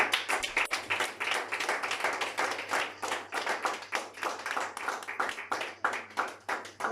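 A church congregation claps together in praise of God, a dense, steady wash of many hands filling the room, fairly loud and continuous with no voices over it.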